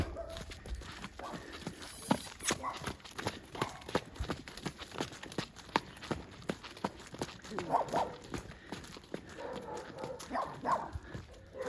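Irregular hoof clops on hard ground, a six-year-old black mare walking at close range, with faint voices and shuffling in the background.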